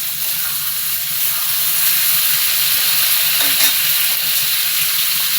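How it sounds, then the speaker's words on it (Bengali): Brinjal with freshly added tomato frying and being stirred in a pan: a loud, dense hiss of steam and sizzling oil fills the whole stretch, fairly uniform with slight swells, and no voices. "টমেটোটা দিয়ে দিলাম, দিয়ে একটু নেড়ে চেড়ে নেব।"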